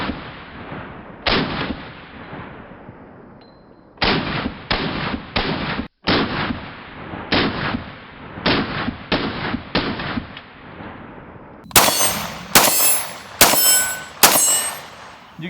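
A short-barreled P90 rifle fires a series of loud, sharp rounds outdoors, in spaced single shots and quick bursts of two to four, with a brighter, harsher cluster of shots near the end and no talking.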